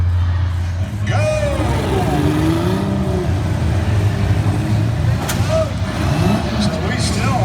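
V-6 demolition derby cars at a county fair run their engines in the arena, a steady, close, heavy engine drone with occasional revs rising over the rumble.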